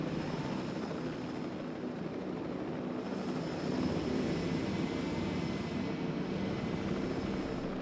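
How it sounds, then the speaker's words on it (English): Several helicopters in a dinosaur park video game drone overhead as a steady, dense rotor wash, a constant broad whir with no breaks and no talking. "Got all these bloody helicopters."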